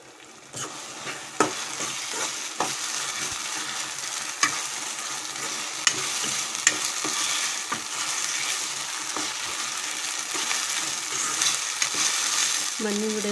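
Spices for a North Karnataka red chutney temper in hot oil, giving a continuous close sizzle punctuated by sharp pops and scraping stirs in the pan, with no voices.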